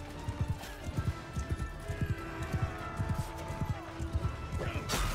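Hooves pound in a fast, regular galloping rhythm during a Mount & Blade II: Bannerlord siege battle, loud and close with game noise behind and someone talking.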